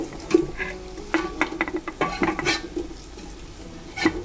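Squash being stirred in a pot for pinakbet, with a few distinct scraping and clinking strokes of a utensil against the pot over a faint sizzle, close and without talk.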